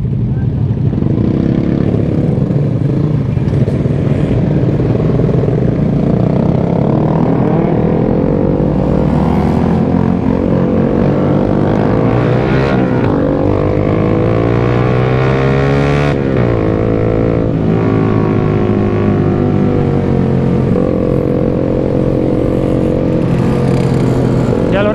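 A motorcycle engine on a touring ride toward Bandung is revved loudly and continuously, with the pitch sweeping up in a few sharp bursts over a steady close roar.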